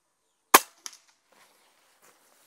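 A Diana Outlaw Gen2 air rifle fires one sharp, close crack, followed by a faint secondary knock and a quiet tail.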